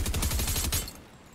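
An explosive gun in Fortnite fires a rapid burst of loud, punchy blasts for under a second, then cuts off into a fading tail.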